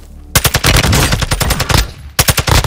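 Rapid automatic gunfire in the video game Call of Duty: Modern Warfare II, a loud close burst of dense shots, a short pause, then a second burst cut off at the end.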